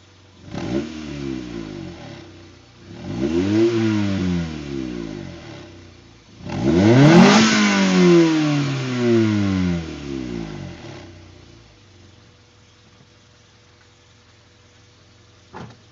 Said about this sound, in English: I'm going to rev it up a little bit.